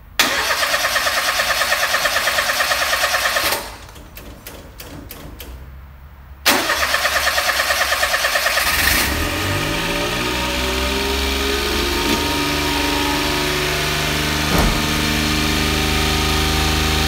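A car engine is cranked over with a short, uneven starter whir, then catches and settles into a steady, close idle that runs on without any talk.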